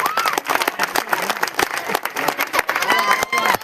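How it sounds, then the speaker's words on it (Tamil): Crowd applause at an Ambedkar Jayanti stage drama event, steady dense clapping from an audience with scattered cheers and voices mixed in throughout. "நம் ஊரின் சார்பாக பலத்த கைத்தட்டலை கொடுக்குமாறு அன்போடு"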